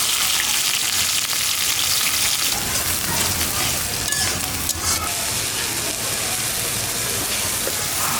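Chopped onion and green chili sizzle in hot oil for a chicken curry, a steady, loud, dense crackle that continues without a break, with no one talking.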